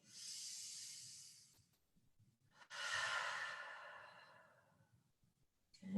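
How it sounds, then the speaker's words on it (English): Deep, slow breaths during a parent-and-child yoga exercise on worry and feelings: a long airy inhale, a pause, then a second long breath, fairly close and soft with no talking. "let's breathe in"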